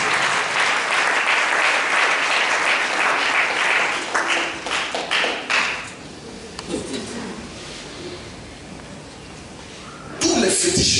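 A congregation at a Sunday church service applauds in praise of Jesus Christ, loud sustained clapping that gradually thins out, with voices rising through the room before another swell of clapping at the end.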